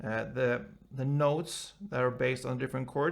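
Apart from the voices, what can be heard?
None of the usual background noises is heard.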